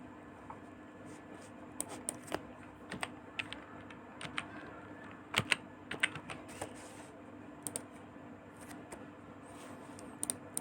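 A computer keyboard is typed on at a desk to enter a captcha code, with irregular bursts of quiet, close key taps and short pauses between them.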